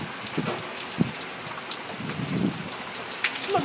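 Heavy rain falls during a tropical storm in Florida outside a home, a continuous dense patter with scattered louder drops and splashes close by.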